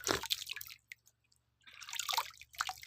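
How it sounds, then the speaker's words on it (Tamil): Water trickles and splashes from a holy spring at a Vinayagar temple, a close, bright, bubbling flow in two bursts separated by a near-silent pause. "அதான் பாரு, நீர் ஊற்று"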